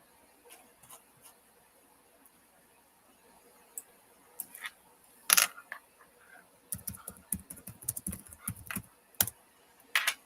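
Keys on a computer keyboard with some sticking keys are pressed in scattered clicks, sparse at first and then a denser, louder burst of typing near the microphone.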